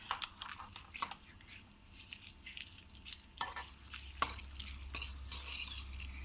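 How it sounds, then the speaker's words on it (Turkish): Beaten eggs stirred in a bowl with a utensil, quiet scraping and light clinks in a loose, uneven rhythm, with a faint low hum in the background and no talk. "Şimdi yumurtamızı kırıyoruz. Karıştıralım birazcık."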